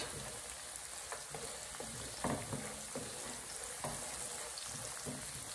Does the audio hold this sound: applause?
no